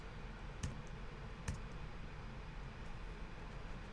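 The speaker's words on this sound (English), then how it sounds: "And now if I hit the backslash key on my keyboard," Two sharp, faint key clicks from a computer keyboard, the backslash key pressed about a second apart, over a low steady room hum.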